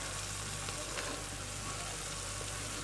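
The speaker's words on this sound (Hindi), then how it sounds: "तो अब हम इसमें डालेंगे साग, कटा हुआ चने का साग डालेंगे हम।" Chopped chickpea greens go into dal cooking in a pan, Bihari chana saag style, giving a steady, continuous sizzle and frying hiss that stays close and even throughout.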